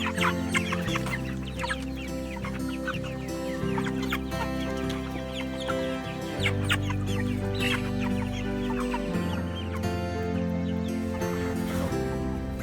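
Cornish meat chickens, a flock of big white birds, cluck steadily and overlap one another, close and loud over a continuous low hum, with no talking.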